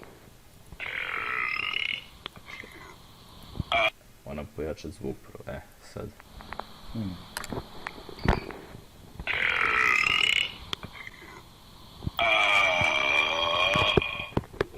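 Loud, drawn-out human burps in several bursts, some lasting a few seconds, with someone talking in between.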